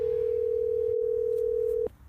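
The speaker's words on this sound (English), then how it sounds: "That's ringing." A telephone gives one steady, loud electronic tone for almost two seconds, then cuts off and leaves a faint background behind it.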